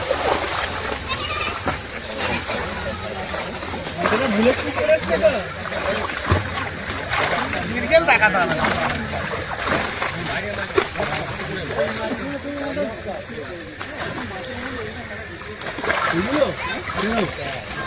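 Fish thrash and splash continuously in a pond as a fishing net is hauled in, a busy wet churning close by, heard under lively outdoor talk from several people.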